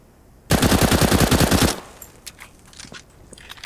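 Rapid pistol fire from the CZ in CS:GO, a fast burst of sharp shots lasting just over a second, followed by quieter clicks and mechanical handling sounds.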